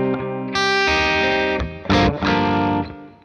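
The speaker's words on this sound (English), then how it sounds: "Let me turn my distortion off." Electric guitar with distortion playing sustained chords from a song lesson, several loud ringing strums with a brief gap before the last two, heavily saturated and alone without speech.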